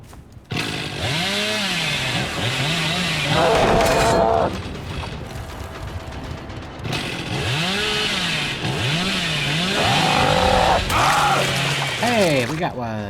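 A killer's chainsaw in a horror video game revs repeatedly in rising and falling whines, with loud bursts that break off into brief quieter mechanical passages.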